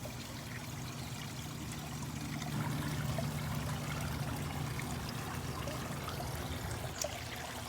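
Water trickling and splashing from a pumped garden pond water feature, where a hose returns water out of a container among rocks and foliage, a constant moderate burble with a low hum beneath it and no voices.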